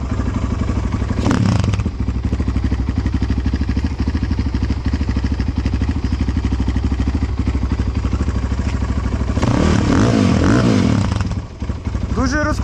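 A GNS 300R motard motorcycle engine runs at a steady, rough idle, then revs up sharply and briefly near the end, with voices talking over it.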